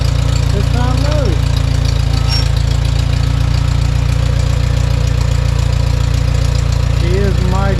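A Farmall 140 tractor engine idles loud and close just after starting, with a steady low chugging throb. Someone talks briefly over it at the start and again near the end.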